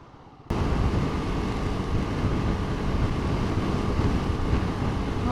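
Loud, steady wind roar buffets a rider on a Royal Enfield Guerrilla 450 naked bike at 70 mph on a motorway, starting abruptly after a brief quieter moment and staying constant throughout.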